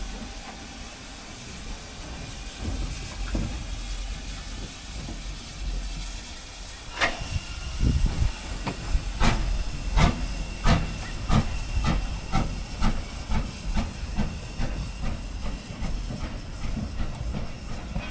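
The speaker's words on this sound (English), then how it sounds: "Well, that was the Isle of Wight Steam Railway." Isle of Wight Steam Railway steam train releasing a steady loud hiss of steam, joined midway by a rhythmic run of sharp metallic clicks and clanks as the carriages roll along the track.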